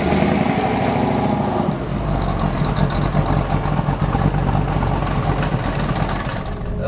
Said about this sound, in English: taking the little Mustang out for a drive